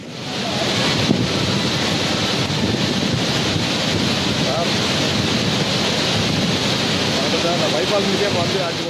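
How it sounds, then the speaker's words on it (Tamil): Courtallam waterfalls in flood after monsoon rain roar as a dense, continuous wash of rushing water, loud and steady with some wind buffeting, with no voices heard. "குற்றால அருவிகளில் தண்ணீர் வரத்து அதிகரித்து வெள்ளப்பெருக்கு ஏற்பட்டுள்ளது"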